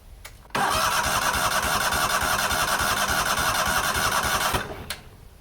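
A neglected 1998 Yazoo YTKC22 three-wheel mower engine cranks steadily for about four seconds under the starter, a loud, close, rhythmic churning that then stops without catching.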